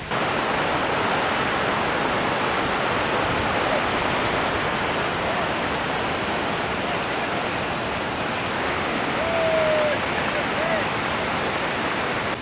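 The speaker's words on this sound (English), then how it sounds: "The spring puts out 235 million gallons a day of water." A large spring discharging about 235 million gallons of water a day, beside an old dam and power plant, gives a loud, steady, unbroken roar of gushing water that fills the whole stretch.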